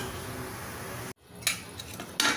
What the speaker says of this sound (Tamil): ஒரு மூடி போட்டு வச்சிடலாம்.